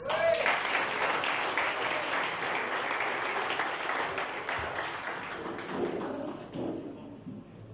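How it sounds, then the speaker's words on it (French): Audience applause welcoming the CEO of the Actis group at a Barnes Mauritius tenth-anniversary evening, full clapping that thins and fades out toward the end. "je compte sur vos applaudissements, pour accueillir M. Oscar Manette, CEO du groupe Actis"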